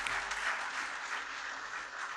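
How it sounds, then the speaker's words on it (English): Sustained applause from an audience greeting chief guest Dr R.S. Paroda at a cotton research event, an even, moderately distant wash of clapping with no talk over it. "a huge round of applause for Paroda ji"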